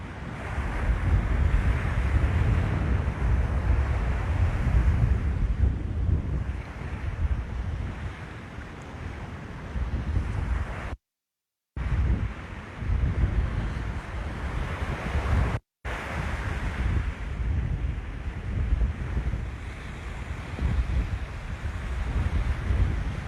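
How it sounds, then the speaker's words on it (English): Ocean waves break steadily on the shore at Lanikai Beach, Hawaii. The roar of surf is broad and continuous, heavy wind buffets the microphone, and the sound cuts out twice for a moment. "those waves out there are really breaking out"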